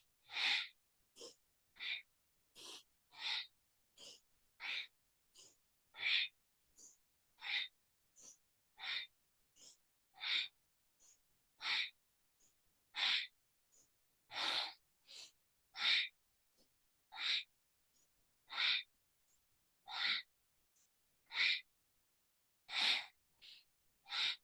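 Forceful yogic breathing in a Kundalini kriya: sharp, rhythmic inhales and exhales through the nose, about one per second, close and alone in otherwise quiet surroundings.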